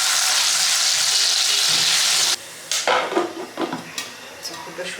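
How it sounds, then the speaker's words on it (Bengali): Popcorn cooks in a pan, starting with a loud, steady hissing sizzle that cuts off, then scattered sharp pops and crackles close by, no talking. "পপকর্ন ফুটানো দেখতে খুব ভালো লাগে।"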